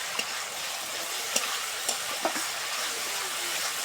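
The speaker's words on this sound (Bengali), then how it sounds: "মশলার সাথে কষে নেব।" Chopped tomato is sautéed with spices in a pan, giving a steady bright sizzle with a few soft clicks from stirring, close and even throughout.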